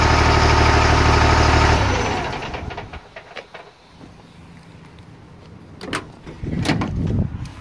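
LMTV military truck engine started by a remote-start system, idling with a loud low rumble for about two seconds, then shutting off, followed by quieter clicks and rustling.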